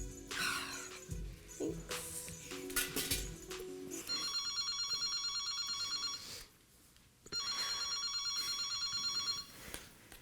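A telephone rings during an outgoing call, repeated electronic ring bursts in two long stretches with a pause between, preceded by some clattering noise, fairly quiet overall.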